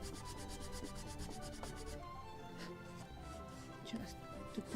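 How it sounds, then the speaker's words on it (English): Sandpaper rubs steadily over a small wooden part of a model ship kit of the 1776 gunboat Philadelphia, rounding its edges with a close, faint, continuous scratchy sound. "Actually, maybe just a little more sanding."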